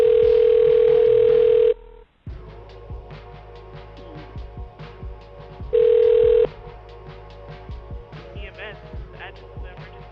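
A telephone line tone sounds while a Grady EMS 911 transfer call waits on hold. It comes in two long, loud steady bursts separated by a stretch of quieter, uneven background noise and thumps.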